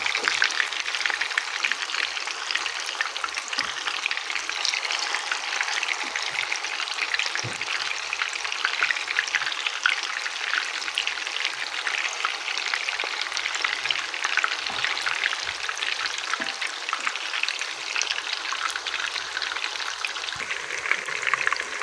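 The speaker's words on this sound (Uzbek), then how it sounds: "Kotletlarimiz chiroyli bo'lib qovurilyapti ikki tomonlama." Meat and rice cutlets frying in oil in a kazan give a steady, dense sizzle and crackle close by, continuous throughout with faint occasional pops.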